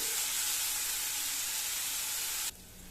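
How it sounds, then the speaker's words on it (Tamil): Onions sauté in a hot pan with a bright, continuous sizzling hiss that cuts off abruptly near the end, leaving a quieter background. "வெங்காயம் நல்லா சிவந்து வரணுங்க அந்த ஸ்டேஜ் வரைக்கும் வதக்கிக்கணும்"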